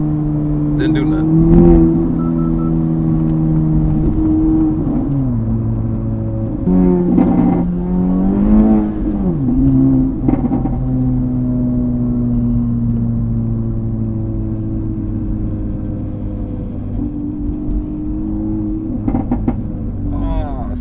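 An Acura Integra Type S on a stock tune with a Milltek catback exhaust accelerates, its engine note sweeping up and down through gear changes, loud and close for about twenty seconds with a steady exhaust drone.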